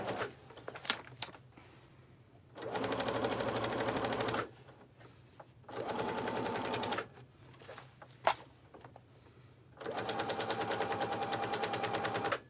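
Sewing machine stitching straight across oilskin fabric in three sustained bursts of steady, rapid whirring, separated by quieter pauses with small clicks and handling knocks.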